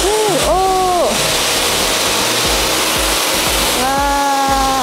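A steady broadband hiss of pure water spraying onto a Honda NSX at an indoor car wash, loud and continuous, with a voice speaking briefly at the start and near the end.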